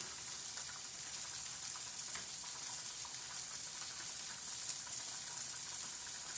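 Shrimp sear in a frying pan, a faint, steady hiss and sizzle that holds evenly throughout with no talk over it.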